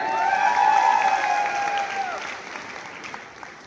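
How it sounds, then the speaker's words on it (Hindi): A crowd at a motivational talk claps for the city of Bareilly, loud applause with a whistle and a few cheers rising at first, then gradually thinning and fading toward the end. "तो एक बार बरेली के लिए तालियां हो जाए"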